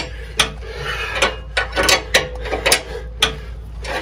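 A hand-cranked tool presses a new bushing into place, giving irregular sharp mechanical clicks and creaks, like a ratchet under strain, spaced unevenly over steady low background noise.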